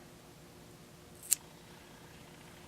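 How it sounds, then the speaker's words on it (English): A single crisp snip of scissors cutting yarn, one brief close click against a quiet room background. "And then I can cut this yarn."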